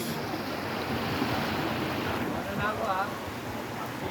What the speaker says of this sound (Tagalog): Napakalakas ng current.